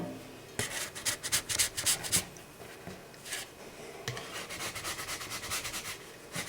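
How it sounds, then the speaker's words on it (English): A spatula slides under a fragile raw pasty on an ungreased cookie sheet, making quick, close scraping strokes in two bursts. "I'm going to use the help of a spatula to get this on the cookie sheet."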